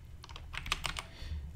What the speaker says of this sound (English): okay, let's type function